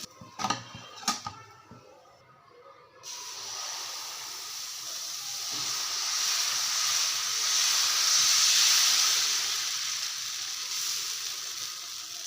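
Thin rice dosa batter poured onto a hot griddle gives a steady close hiss that swells and holds, preceded by a few sharp clanks of utensils at the start.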